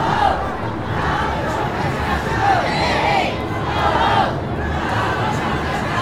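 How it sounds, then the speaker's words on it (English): A Women's March protest crowd booing in front of Trump's hotel in New York City, a dense outdoor roar of many voices with drawn-out jeers rising and falling, steady and fairly loud with no clear single speaker. "You know why they're booing?"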